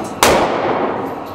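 A single sharp gunshot from a Glock .40 pistol or a 5.56 rifle during shooting practice cracks loudly and up close, then a short reverberant tail fades.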